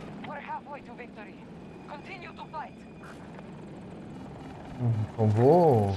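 A KA-520 Super Hokum attack helicopter in a Call of Duty match drones under game chatter and players talking, its rotor swelling into a loud pulsing rumble near the end.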